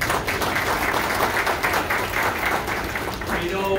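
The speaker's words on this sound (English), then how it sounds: "each and every one of you and Bob all deserve a round of applause just for being there." Audience applauding at a police precinct community council breakfast in the Bronx, a continuous room-filling patter of clapping with faint voices mixed in underneath.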